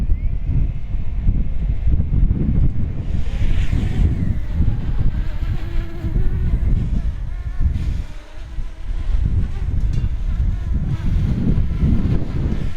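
Very strong wind, gusting near 40 mph, buffets the microphone during an outdoor drone flight test: a loud, continuous low roar with steady rumble that briefly dips before surging back, no speech.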